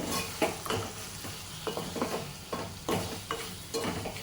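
Wild bitter gourd curry, village style, being stirred in a pan, with repeated scraping strokes of a spoon over a soft, continuous sizzle, close and fairly loud.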